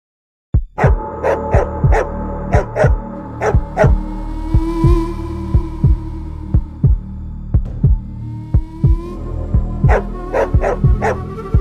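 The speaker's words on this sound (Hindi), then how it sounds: "वो मेरे पीछे कुत्ते पड़े थे" Several dogs bark in repeated sharp bursts through most of the stretch, as if chasing someone in a village, loud and close over a steady low hum.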